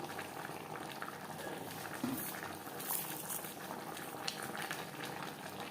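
A pot of Bengali vegetarian cauliflower curry simmers steadily, with a continuous bubbling and soft popping at close range, alone and without talk.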